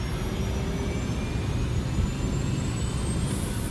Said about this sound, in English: The crew lets the inboard engines spool up before the plane starts moving.